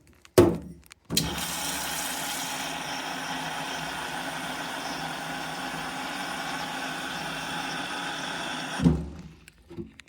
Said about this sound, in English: first we gotta fill up some tap water